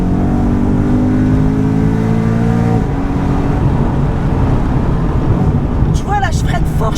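A BMW M3 GTS Clubsport replica, E92 generation, accelerating hard with a loud, steady engine roar that shifts pitch mid-run, close and dominant, with a brief tyre squeal near the end.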